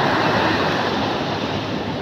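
Ocean surf washes in at a beach, a loud, continuous broadband roar of breaking waves close by, with some wind buffeting the microphone.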